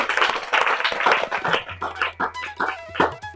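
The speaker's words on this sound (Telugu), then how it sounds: "కొట్టండి, చప్పట్లు కొట్టండి." A group of children claps together in a classroom, several rapid bursts of hand claps that thin out into scattered individual claps near the end.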